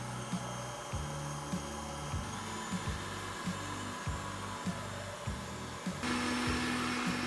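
An electric mixer whisks cream with powdered sugar in a bowl, giving a steady motor whir with repeated rhythmic knocks as the beaters hit the bowl, close and with no talk.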